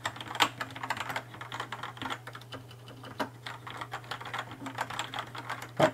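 Rapid clicking of a Rapoo V800 mechanical keyboard, a quick irregular patter of keystrokes over a low steady hum, fairly quiet and close.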